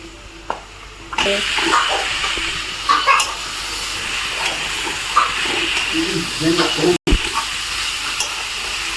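Drumstick vegetable pieces fry in hot oil in a pan, a loud steady sizzle and hiss with occasional stirring clatter, and a voice talks over it.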